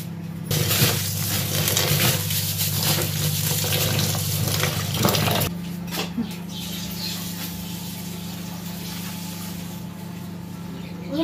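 Water running into a pot as dal lentils are washed in a kitchen, a steady loud splashing rush that shifts tone partway through as the flow changes, with no talk.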